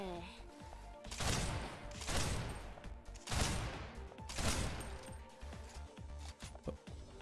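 Snowbreak: Containment Zone sniper rifle fire comes as four heavy booming shots spaced about a second apart, each with a long rumbling tail, then softer clicks follow.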